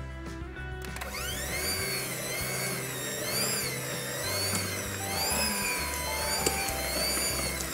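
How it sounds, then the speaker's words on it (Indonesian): A stand mixer kneads chocolate choco-chip bread dough for soft white bread, its motor whirring steadily and loud with shifting low thumps as the dough slaps around the bowl, continuous throughout with no talking. "ini kita lanjut uleni lagi, kita mixer lagi sampai ini adonannya benar-benar kalis elastis maksimal"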